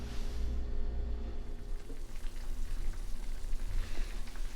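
A pot of water on the stove just beginning to boil, a soft steady bubbling and hissing hum, faint and close with no voices.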